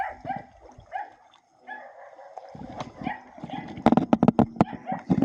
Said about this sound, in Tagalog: Kasi nagtatahulan ng aso dito mga kabebeloves.